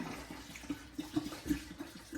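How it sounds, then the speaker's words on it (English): A bottle of vodka poured into a container for crabapple liquor, a faint liquid gurgle with soft rhythmic glugs continuing steadily throughout. "I'm just going to pour the whole thing in there"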